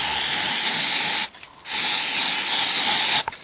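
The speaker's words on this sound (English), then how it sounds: "just spray furniture polish onto the cloth" Furniture polish sprays onto a cloth in two loud, steady hissing bursts, each over a second long, split by a short pause, with a brief click at the end and no talking.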